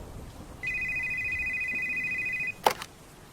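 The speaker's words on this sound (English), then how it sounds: "the phone started ringing" A single electronic telephone ring tone sounds for about two seconds, clear and fairly close, followed by a brief clunk like a handset being lifted.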